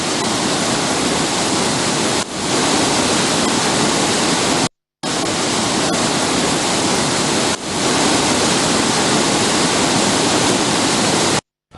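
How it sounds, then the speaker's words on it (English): Water roars through the four opened spill gates of the Dambulla reservoir in Sri Lanka during heavy rains. The rush is loud, steady and unbroken, with one brief cut partway through. "4 spill gates of the Dambulla reservoir were opened as well"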